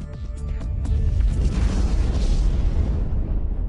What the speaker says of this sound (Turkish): Nükleer patlamayı.